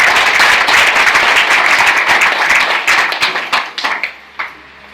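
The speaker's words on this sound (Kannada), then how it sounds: "ಅವರಿಗೂ ಕೂಡ ಒಂದು ಸಲ ಜೋರಾಗಿ ಚಪ್ಪಾಳೆಯನ್ನು ಮಾಡ್ತಾರೆ" An audience at a devotional Shiva program breaks into loud, dense applause. Close and sustained at first, it thins into scattered claps and fades toward the end.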